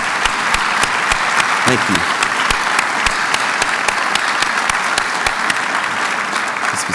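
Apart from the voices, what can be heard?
audience applause at university address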